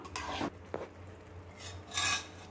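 Stirring carrot halwa with ghee in a pan after adding cashews, almonds and fried raisins: a few close, rasping scrapes of a spoon against the pan, with quieter scraping strokes in between.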